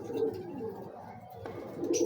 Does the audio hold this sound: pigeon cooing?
yes